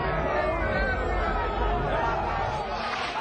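Crowd at an Oakland, California car sideshow reacting to a botched stunt, a loud wash of overlapping shouts and chatter from many onlookers close by, continuous with low rumbling underneath.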